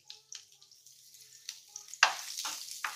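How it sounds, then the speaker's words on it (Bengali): Chopped onion, garlic and green chilli fry quietly in a pan, a faint sizzle broken by a few soft spatula scrapes and one louder stirring sweep near the end. "এবার ভালোভাবে পেঁয়াজ রসুন আমি ভেজে নেব।"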